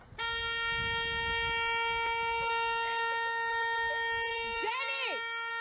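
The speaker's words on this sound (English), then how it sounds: "my fucking dog honks the horn at me when I take too long." A car horn sounded by a dog inside the vehicle, one long steady honk held for several seconds with a short warbling burst near the end, loud and close.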